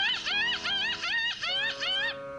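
A human voice imitates a contented palm cockatoo, giving a run of rising, warbling whistled calls in quick repeated phrases, close and clear.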